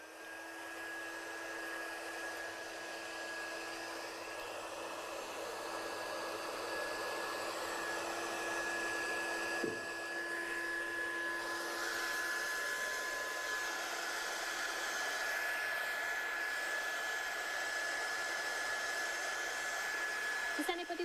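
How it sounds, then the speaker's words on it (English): A heat gun blows steadily and close for the whole stretch, a constant rushing hiss with a thin whine, used to heat set stamped ink on an MDF craft piece for handmade home decor. "Right, let's heat set this one. So get your gun hot."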